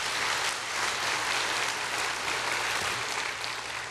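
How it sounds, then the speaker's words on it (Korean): A church congregation applauds during a Sunday sermon with dense, sustained clapping that stays steady throughout, filling the room like a continuous wash. "박수, 박수, 그래, 박수."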